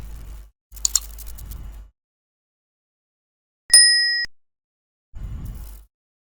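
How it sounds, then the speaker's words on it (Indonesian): A single bright bell-like ding rings out and fades quickly, set between brief bursts of soft noise and stretches of silence. "suara lonceng dengan suara subscribe-nya"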